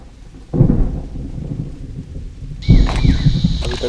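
Thunderstorm with rain in a large forest of a wildlife sanctuary in India: steady rainfall with two deep rumbling thunder rolls, the second bringing a brighter hiss, loud and close with no voices.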